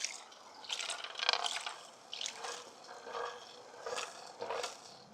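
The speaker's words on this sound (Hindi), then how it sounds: "अभी तो थोड़ा सा पानी डाला है, ऐसे से हिलाते हैं।" Water swirled around in a gold pan while panning for gold in Dawson City, Yukon, a close, uneven sloshing and trickling that rises and falls in short surges.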